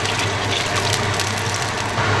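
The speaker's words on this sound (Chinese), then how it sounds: "再下点水哈" More water poured into a pot holding a turkey leg over heat, a brief steady splashing gush over broad hissing simmer, close and unbroken.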